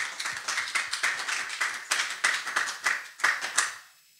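A church congregation claps in rhythm during a service: a steady, fairly close run of hand claps that fades out at the end.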